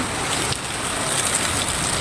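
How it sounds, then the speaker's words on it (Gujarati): Heavy rain pours down outside in a steady, dense hiss that stays even throughout, with no talking. "તો બહાર ચાલુ થઈ ગયું છે ધોધમાર વરસાદ"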